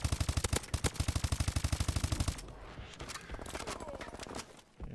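Rapid automatic gunfire from the video game Call of Duty Advanced Warfare rattles in a fast, even burst, then breaks into scattered distant shots and combat noise.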